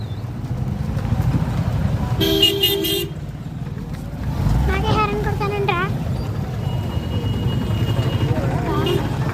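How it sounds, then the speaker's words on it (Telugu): Busy street traffic with several car horns honking, short toots and longer blasts over a rumbling engine background, fairly close. "చాలా ట్రాఫిక్ అయితే ఉంది, అందుకే ఇంత హారన్ సౌండ్స్ అయితే వినిపించాయి"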